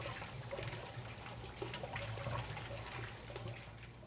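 Water trickles steadily into the reservoir of a non plug-and-play flushing setup, a quiet, continuous liquid gurgle with a low mechanical hum underneath and no speech.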